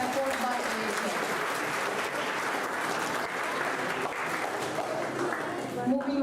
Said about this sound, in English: let's have a huge round of applause for this wonderful effort by AHL.